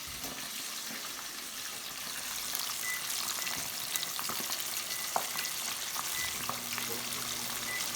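Chicken wings deep-frying for buffalo wings, giving a steady close bubbling sizzle of hot oil with small crackles throughout and a faint low hum near the end.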